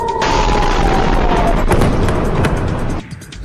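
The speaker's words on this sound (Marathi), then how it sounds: "क्षेपणास्त्र थेट शहरात आदळल्यामुळे मोठा स्फोट झाला." Missile strike explosion in a city, a loud, sustained rumbling blast with a sharp crackling burst midway, heard alone and fading toward the end.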